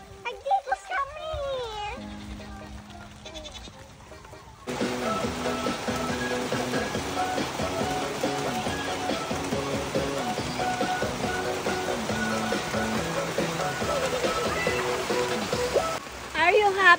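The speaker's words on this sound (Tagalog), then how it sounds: "Umuulan na." Steady rain pours down in a rural Philippine province, a dense continuous hiss that starts abruptly a few seconds in and persists loudly, with children's and adults' voices around it.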